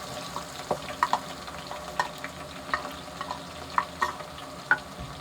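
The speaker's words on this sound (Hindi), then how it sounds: "हल्का सा इसको बस फ्राई करेंगे" Soft, steady sizzle of green onion and green garlic frying in oil, punctuated by scattered light clicks and scrapes from stirring.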